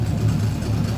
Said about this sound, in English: The little clickety-clack noise you hear back there is the starter,